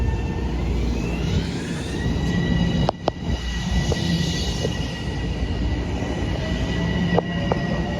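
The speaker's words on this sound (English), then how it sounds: "Let's watch this train leave." A subway train departing a station rumbles steadily with a constant mechanical hum and a high whine, plus a couple of sharp clanks, continuous and fairly loud with no talking.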